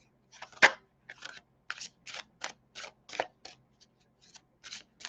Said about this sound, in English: This is overhand shuffling for me.